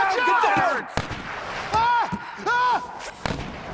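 A few sharp, booming gunshots in the Tomb Raider video game ring out at separate moments, one near the start and one late, while characters talk between them.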